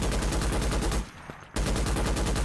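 Automatic sniper rifle in Starship Troopers: Extermination firing rapid, evenly spaced shots, loud and close, with a short pause of about half a second before the volley resumes.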